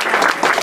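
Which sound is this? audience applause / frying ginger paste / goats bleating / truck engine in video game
audience applause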